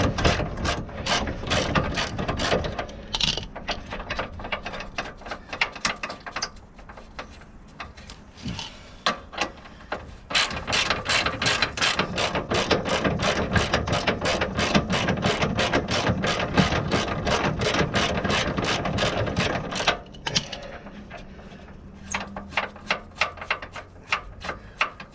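A ratchet undoes a suspension bolt at the lower ball joint and anti-roll bar drop link of a 2008 Citroen C1: long runs of rapid clicking, close and loud, broken by a few short pauses.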